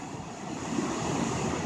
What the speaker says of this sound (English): Then you shift to the other side of the dam, and the water's turbulent.